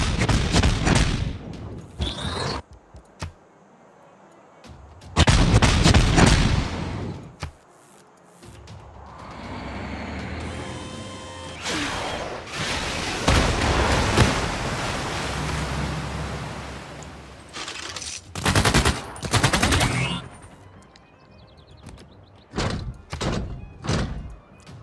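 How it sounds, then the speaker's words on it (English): Artillery bombardment in the strategy game Civilization VI: several heavy booming barrages and thuds, loud and close, separated by rumbling lulls, with a cluster of sharp repeated blasts near the end. "all I'll use is just bombardment upon them and kill them"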